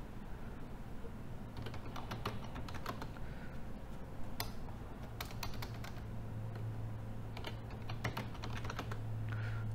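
Computer keyboard typing in a quiet room, bursts of quick clicking keystrokes in short runs with pauses between, fairly close, over a steady low hum.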